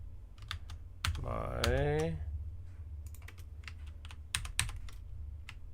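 Keyboard keys clicking in scattered bursts, near and fairly quiet, during a Hades 2 game session, with a voice speaking briefly in between.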